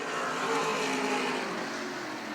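Race cars roar past on an oval track in a 75-lap short-track race, a dense continuous engine blare that swells and slightly fades, loud and close.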